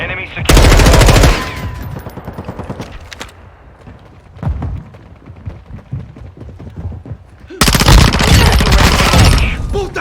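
Gunfire in a Call of Duty-style shooter game: loud, close automatic bursts open and close the stretch, with sparser single shots and battle noise between them.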